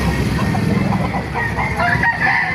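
Roosters at a busy pet market in Baliuag crow and cluck close by, one hoarse drawn-out crow rising over a steady noisy crowd background.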